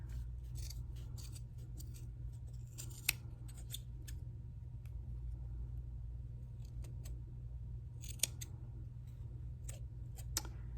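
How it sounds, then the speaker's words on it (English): Scissors snip through fabric while pom poms are made, giving scattered faint, sharp cuts and clicks over a steady low background hum. "you're going to take your scissors and you're just going to kind of go through that hole right there and you're going to cut"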